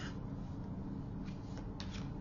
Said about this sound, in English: So I shuffle the cards, but I'll shuffle them again.